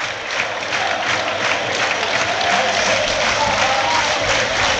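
A football stadium crowd at Chesterfield against Portsmouth in an FA Cup tie gives warm, steady applause as a player is substituted off, a dense, even wash of clapping that holds at the same loudness throughout.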